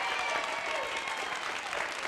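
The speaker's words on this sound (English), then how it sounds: "Give yourselves a round of applause." An audience of psychologists claps a steady round of applause at a live WePlay Baton Rouge event, dense and even throughout, moderately loud, with no pause.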